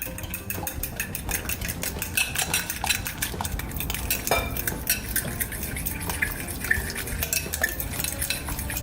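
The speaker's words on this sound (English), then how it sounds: "Now I'm just gonna mix that together." Flour and salt stirred together in a bowl, a steady scraping and clinking of a utensil against the dish that runs continuously and close up with no talking, while making onion rings.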